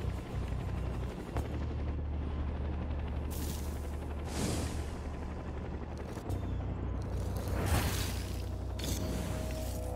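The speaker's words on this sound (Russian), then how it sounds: "Там еще вертолет какой-то прячется." A video game helicopter gives a constant, close rotor drone throughout, with bursts of gunfire and blasts cutting through it, and no speech.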